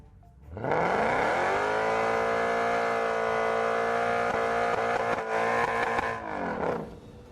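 A supercar in a police chase revs up from low pitch to a loud, sustained high-revving engine roar, holding steady for several seconds before dropping away near the end, with no voices.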